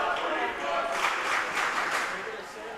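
A student crowd at a high school volleyball match cheers and claps in a steady, moderately loud roar from across the gym, with a commentator talking over it.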